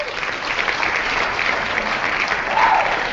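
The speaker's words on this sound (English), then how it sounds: "Where's the applause for that comment?" Steady applause fills about three seconds, a dense and even wash of clapping with no voices over it.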